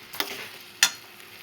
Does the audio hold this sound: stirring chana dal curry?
yes